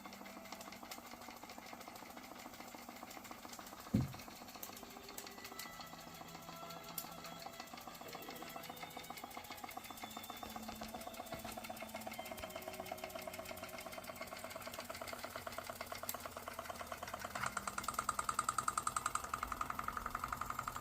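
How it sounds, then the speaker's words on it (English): A 130-year-old steam engine runs with a faint, steady, rhythmic mechanical clatter and chuff that carries on evenly with no talking. "Psychedelic steam engine, woo,"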